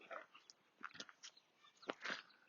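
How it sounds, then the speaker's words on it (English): Dogs on a walk outdoors, with scattered soft snuffling, chewing and scuffling noises close by, irregular and faint, with no steady rhythm. "We have two puppy dogs"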